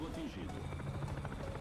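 Helicopter in the War Thunder video game, a steady mechanical rotor drone with rapid beating texture held throughout the short moment, with someone speaking over it.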